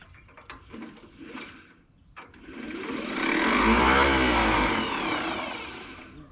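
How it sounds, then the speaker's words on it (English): An Allis Chalmers WD tractor's starter, run off a booster pack, clicks a few times, then groans in a long, loud mechanical whir that swells and fades without the engine catching. "Doesn't sound like the starter wants to work though"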